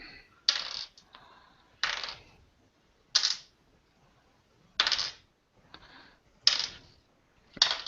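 New dice for a tabletop role-playing game are rolled on a hard surface in several separate bursts of sharp clattering, each quickly settling into quiet.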